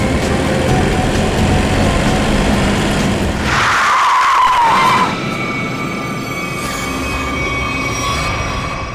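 A car's tires screech in a loud skid of about a second and a half as it brakes hard to a sudden stop, narrowly avoiding a collision, over a steady background of traffic rumble.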